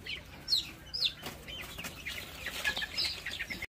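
Young ornamental chicken chicks chirp and cluck in a raised-floor coop, with a steady scatter of high, short peeps over soft background noise and no talking.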